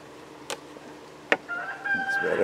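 Two short sharp calls are followed by a rooster crowing nearby, its drawn-out cry rising over a quiet outdoor background.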